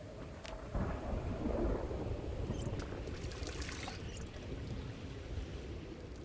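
Thunderstorm ambience in a video game: rumbling thunder rolls over a steady wash of rain, with a louder crack early on and softer trickling afterward, no voices over it.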